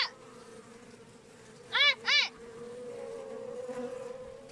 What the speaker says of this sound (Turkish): Özgür arılar sadece geziyor.